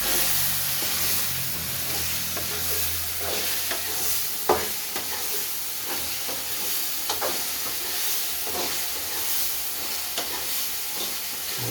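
Chicken fries in a hot pan with a constant loud sizzle and hiss, while a spoon stirs and scrapes through it with occasional sharp clinks.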